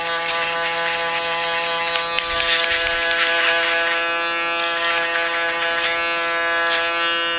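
An electric hair trimmer running during a barber's mid fade haircut, a steady, close, high-pitched mechanical buzz holding throughout with slight changes in tone as it moves against the hair.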